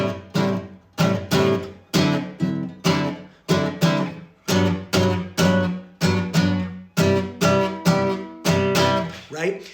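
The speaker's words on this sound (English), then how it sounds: "So that was the same rhythm played 4 different times on 4 different chords." Guitar strumming a clave-style rhythm, the same syncopated pattern of sharp chord hits repeated over four different chords, close and clear with each strum decaying quickly.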